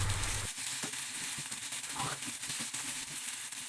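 Chili and tomato sautéing in a pan for a squid stir-fry, a steady soft sizzle with faint scraping stirs throughout, close and continuous with no talking.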